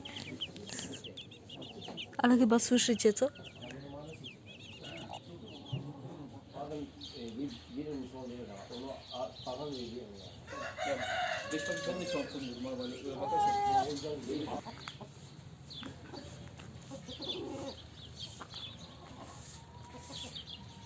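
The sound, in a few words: hen with chicks clucking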